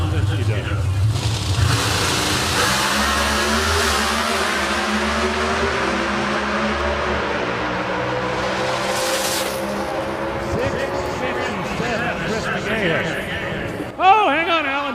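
A Pro Stock drag racing car roars down the strip at an NHRA event before its late parachute and a crash into the wall, the loud engine drone shifting and fading, ending in a sharp impact-like burst.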